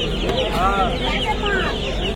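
Kotki chickens cluck close by in a short burst of overlapping calls and squawks over a low background hum.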